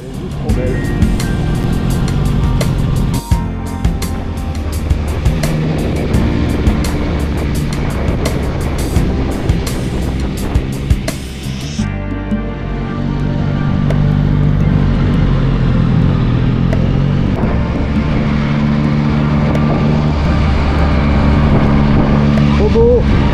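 Yamaha XSR900 motorcycle engine running steadily throughout, a loud continuous drone with a shift in tone midway, heard alongside wind or road noise.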